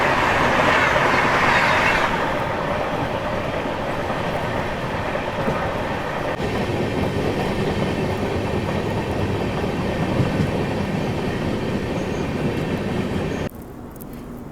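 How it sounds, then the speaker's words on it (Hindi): The Mumbai Howrah Duronto Express runs at speed with a loud, steady rumble and rattle of carriages on the rails, heard from inside the train, with no talk. "अब चलो बिलासपुर तक अपनी दुरंतो बढ़िया भागती रहेगी।"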